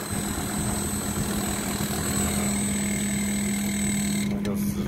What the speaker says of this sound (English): There goes the compressor stopping.